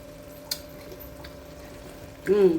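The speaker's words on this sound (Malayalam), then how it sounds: "ഇപ്പോൾ ഒന്ന് തുറന്ന് നോക്കി ഒന്ന് ഇളക്കി വിടുന്നുണ്ട്." Chicken roast stirred in a pan over a medium flame, with faint scraping and a soft sizzle running steadily underneath, then a brief louder burst of stirring near the end.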